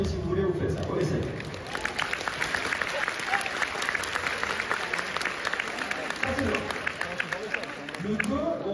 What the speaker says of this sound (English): Juste on applaudit avec les mains au tapis-pied si vous voulez